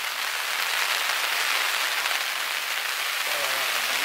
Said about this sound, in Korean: 비가 많이 내리고 있습니다.